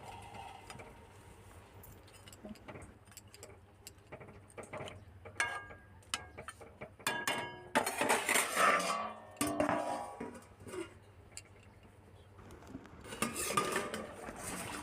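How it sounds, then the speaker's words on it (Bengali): Clattering of a metal plate set down as a lid over a pan of fried tangra fish in sauce, with scattered clinks and a few louder bursts of rattling, no talk. "এবারে ভেজে রাখা মাছগুলো দিয়ে দেব, দিয়ে একটা থালা চাপা দিয়ে দেব"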